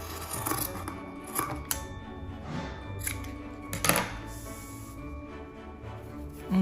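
Scissors cutting fabric at the heel of a Christmas gnome craft piece: close, soft snipping and rustling of cloth in quick irregular strokes, with no voices.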